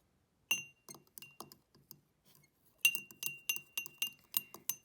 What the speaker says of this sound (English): take the fork and stir the oil and the food coloring together.